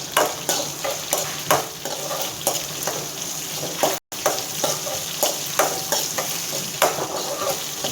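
Onions, chilies and curry leaves fry in a pan for a ragi semiya breakfast, giving a steady close sizzle broken by stirring scrapes and a brief dropout midway. No one speaks.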